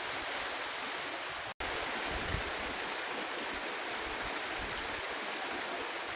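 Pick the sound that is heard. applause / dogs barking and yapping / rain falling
rain falling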